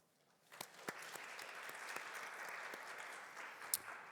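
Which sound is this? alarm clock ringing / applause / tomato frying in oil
applause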